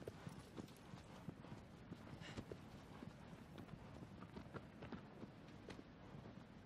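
A horse gallops across open ground in the video game Shadow of the Colossus. Its hooves beat in a quick, continuous rhythm, faint and fairly distant, over a low background wash.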